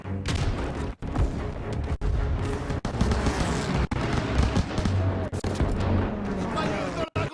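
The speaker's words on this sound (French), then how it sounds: "Je vois des tirs de DCA là-bas!" Rapid bursts of heavy gunfire and booming anti-aircraft shots at Stuka dive bombers in a Call of Duty WWII battle, dense and loud, with shouted voices mixed in.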